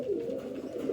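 Fakir Gul pigeons give a soft, low continuous cooing, close and fairly quiet, filling a brief moment without other sounds.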